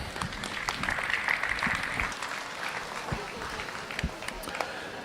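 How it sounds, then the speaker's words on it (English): Audience at a county fair 4-H/FFA market steer show clapping, a steady patter of applause with scattered louder claps, fairly faint and held for several seconds. "Let's give them one round of applause."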